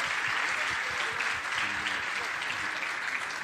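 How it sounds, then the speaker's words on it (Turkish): A crowd applauds at a Turkish public opening ceremony, a dense, continuous clapping sound at moderate distance with murmuring voices faintly underneath. "Alkış."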